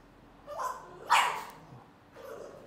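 Small English bulldog puppies yip and bark in short high-pitched bursts, three cries spread out, fairly quiet against a hushed room.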